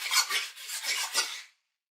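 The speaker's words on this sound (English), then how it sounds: "We are basically going to make a waker shaker out of paper plates or bowls." A handmade shaker of two paper plates or bowls joined together, shaken in a few quick bursts of bright rattling rasp for about a second and a half before stopping, close and fairly loud with no talk.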